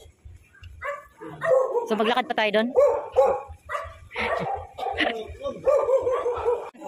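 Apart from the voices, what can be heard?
angry dog barking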